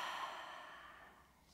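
A long, soft exhale through the mouth during postnatal yoga breathing, a breathy rush of air that starts fairly strong and slowly fades away, close up with no speech.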